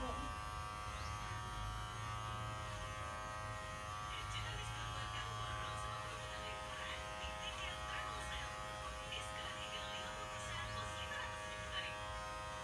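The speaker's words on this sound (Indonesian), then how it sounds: "Mata cukurnya sangat tajam dan mudah untuk memangkas rambut yang lebat." A Kemei PG 1990 electric hair clipper runs steadily while cutting thick hair, a constant close buzzing hum with faint rasping texture throughout and no speech.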